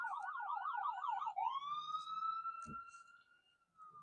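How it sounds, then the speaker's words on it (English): A passing ambulance siren heard from inside a car stopped at a traffic light, first a rapid yelping warble and then a long, slowly sliding wail, with a brief thump partway through. "Oh, I hear sirens."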